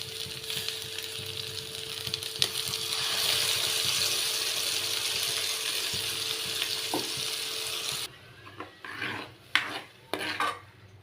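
Tomato juice hits a pan of frying mushroom curry paste, giving a steady sizzle with a faint hum, then the sizzle cuts away to a few close clinks and scrapes of a utensil against the pan.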